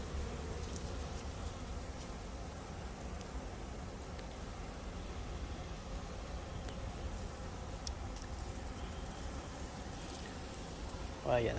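A bumblebee buzzes near the entrance of a beehive, its low steady drone lasting throughout, blended with the softer hum of many honeybees nearby and a faint voice at times.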